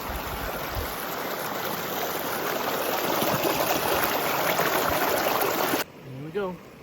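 A mountain stream near Thunder Lake in Rocky Mountain National Park rushes in a steady, close, full wash of flowing water. The sound cuts off abruptly near the end, leaving a brief voice against a quiet background.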